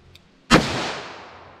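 A single loud .357 Magnum shot, an Underwood 125 grain round fired at close range, sharp and booming, with a long reverberant tail after a quiet lead-in.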